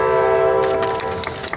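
A train passing during an outdoor evening vigil, its horn sounding a loud sustained chord close by while wheel and rail rumble and clatter build beneath it.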